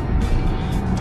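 Road traffic with cars idling and rolling nearby, a dense continuous engine rumble with brief swells as vehicles pass close by.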